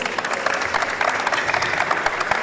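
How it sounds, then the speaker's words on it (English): An audience applauds dancers after a performance at an entertainment event. The clapping is brisk and fairly close, with dense overlapping hand claps at a steady level for a couple of seconds. "You can give the dancers a round of applause, please."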